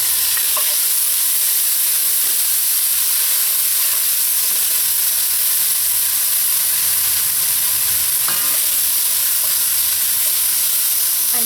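Green seasoning sizzles steadily in hot oil with browning onions, giving a constant, bright frying hiss with faint clicks of stirring and no talk.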